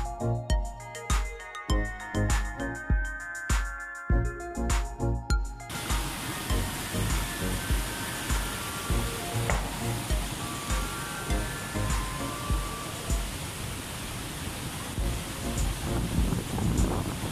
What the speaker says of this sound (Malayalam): വെള്ളം മേലെ നിന്ന് വരികയാണ്, ഒന്നും പമ്പ് ചെയ്യണതല്ല